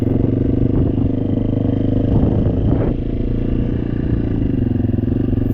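Motorcycle engine revving hard while lifting into a wheelie, a loud, close, steady drone with throttle swells and a brief rising rev in the middle, no talking.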